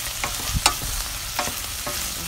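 Bell pepper and crushed onion sautéing in a hot pan, a loud dense close sizzle with a few quick stirring scrapes.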